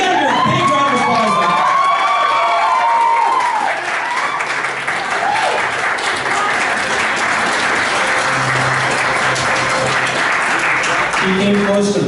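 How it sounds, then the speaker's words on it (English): An audience at an anime convention game show applauds loudly and steadily, a dense wash of clapping with some cheering and a voice heard at the start. "So we got to give a big round of applause."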